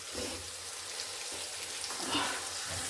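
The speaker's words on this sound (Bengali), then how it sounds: "এবার এটা খুব একটু ভালো করে ভাজা ভাজা করে নেব।" Soft, steady sizzling of onions frying in a pan, fairly quiet with faint crackles and a low background hum.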